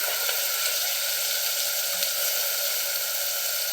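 Fried sprouted grains tipped into a pan of sizzling gravy give a steady, close, continuous sizzle and crackle, with no voices over it.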